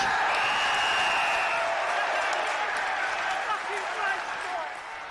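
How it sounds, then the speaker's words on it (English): Football stadium crowd at West Ham United versus RM Castilla gives polite applause for a player coming on, a steady wash of distant clapping and murmur that slowly fades, with a commentator talking over it. "So Jeff Pike, to what amounts as polite applause, gives West Ham a real boost."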